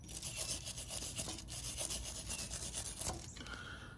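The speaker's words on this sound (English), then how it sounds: "So I'm just gonna do it with a wire brush." A wire brush scrubs rusty fasteners from a 44-year-old Jeep Cherokee Chief, giving a steady, close, rasping scrape that runs continuously for about three seconds before easing off.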